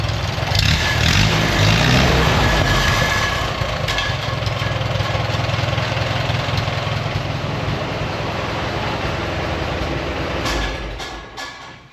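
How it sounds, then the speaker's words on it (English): Engine of a 1972 Allis Chalmers M65 road grader running after carburetor tuning, a steady rough rumble close by that holds even throughout and fades slightly at the end. "I kind of messed with the carburetor a little bit, got it tuned in, and she's running pretty good"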